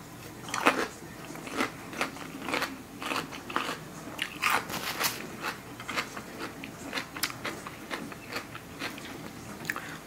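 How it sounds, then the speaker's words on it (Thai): Someone eating salad close up, with repeated crisp crunchy bites and chewing in an uneven rhythm and no talking. "กินสลัดเอาสลัดไป"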